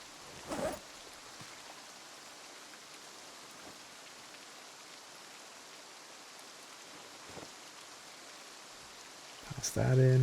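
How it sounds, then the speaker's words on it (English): Steady rain falls in the survival video game Project Zomboid as an even, soft hiss throughout, broken by a couple of brief knocks and a louder clatter near the end. "Stay out of the rain."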